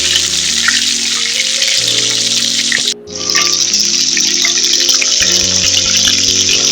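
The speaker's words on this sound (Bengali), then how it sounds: "পটল এইভাবে ভাজছি ভেজে নেবো দেখুন পটলটা কীভাবে ভাজছে" Pointed gourd (potol) pieces fry in oil with a dense, continuous crackling sizzle and a brief drop-out partway through, and no voice is heard.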